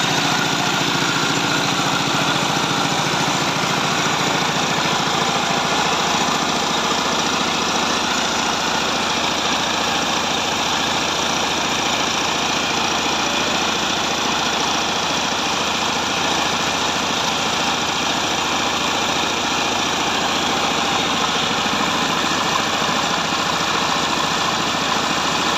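Japanese two-cylinder diesel engine coupled to a motor, idling steadily with a dense, continuous chugging drone throughout, loud and close, no talk.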